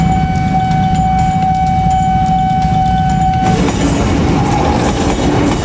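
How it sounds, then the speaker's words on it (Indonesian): An executive-class passenger train rolls through the Bungur level crossing, a loud continuous rumble of wheels on rails with the steady ring of crossing bells, the texture shifting partway through as the cars clatter over rail joints. "Sambungan rel kereta."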